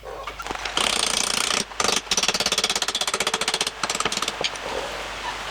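An impact-style power tool hammers rapidly at a shock absorber bolt on an ARB BP51 suspension, firing in loud bursts with short pauses between them, close and harsh, with no voices.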